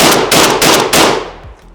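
An HS-10B shotgun in a Call of Duty Black Ops game fires three loud, sharp blasts in quick succession, each trailing into a short echoing decay.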